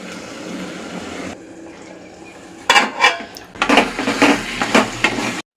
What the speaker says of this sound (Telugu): మూత పెట్టి సిమ్లో పెట్టి మగ్గిద్దాం